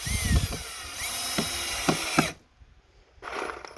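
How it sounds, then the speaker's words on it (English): A cordless drill driving screws into outdoor wooden furniture spins up twice with brief clicking ratchet sounds between, pausing for a moment of near silence before the second short burst. "We'll let the drill do the work."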